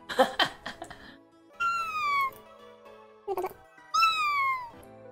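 A video game cat meows several times, drawn-out falling cries separated by short pauses, with a few clicks and taps in between.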